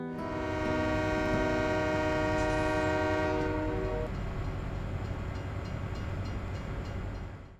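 Train in the video game Farming Simulator 17 sounding a long, loud multi-tone horn over the rumble of rolling wagons, the horn cutting off partway and the steady rail noise carrying on alone.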